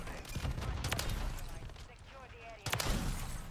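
Sniper rifle shots from the MORS in Modern Warfare 3, fired on the Rust map: loud sharp cracks with rumbling tails, a couple near the start and another toward the end, over steady game noise.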